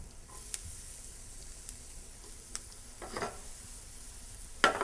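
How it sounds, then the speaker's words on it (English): Onions going into hot oil in a pan to caramelize, a soft steady sizzle with scattered light stirring taps and a louder burst of frying at the very end. "I'm gonna get it heated up and ready to put our onions in for caramelization"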